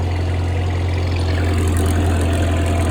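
A Cub Lo Boy 154 tractor engine running close by, a loud, steady low idle hum with constant rumble and no change in pace.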